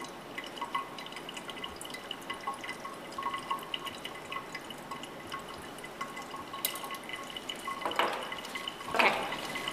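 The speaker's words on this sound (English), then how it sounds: "You'll add enough ethanol till the color you see running off the slide is a pale" Ethanol trickles and drips off a microscope slide during a Gram stain, a faint, irregular patter of small drops that turns into a couple of brighter splashes near the end, with no talking.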